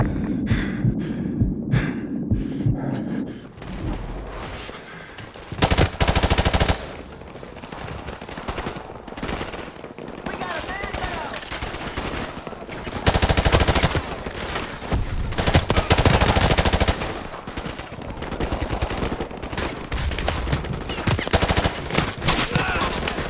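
Dense, loud gunfire from Call of Duty: Modern Warfare Remastered, with sustained machine-gun bursts and overlapping shots roaring almost continuously, plus brief quieter stretches and combat voices underneath.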